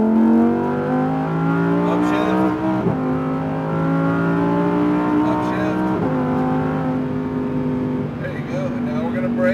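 Lamborghini Huracan engine revving hard under full throttle on a track, loud rising harmonic pitch climbing through two upshifts with brief dips, continuous and close.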